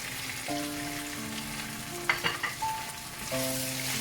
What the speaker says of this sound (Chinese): 稍微翻炒一下